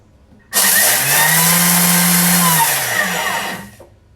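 A food processor whirs on turbo, grinding breadcrumbs in a single loud, steady burst of about three seconds that cuts off abruptly.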